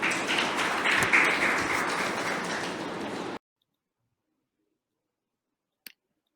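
Applause from the audience at a maritime history valedictory event, broad and sustained for about three seconds, then cutting off abruptly into silence with one brief click near the end.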